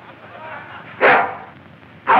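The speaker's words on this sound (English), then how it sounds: "Get that dog out of this courtroom." A dog barks twice inside a courtroom, with two loud, sharp woofs about a second apart over a steady background murmur.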